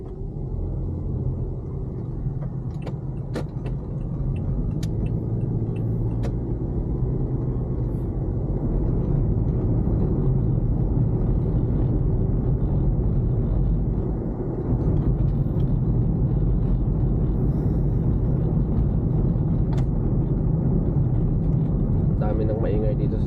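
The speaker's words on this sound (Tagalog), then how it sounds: "Dami ng maingay dito sa sasakyan na to." A truck towing a large camper rumbles along the road, its cabin filled with loud, steady low engine and road drone and occasional clanking rattles throughout, with a person talking over it.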